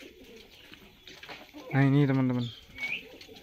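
Merpati wulung pigeons in cages give a loud, sustained coo with a rolling rhythm at close range, preceded by someone talking and followed by softer calls.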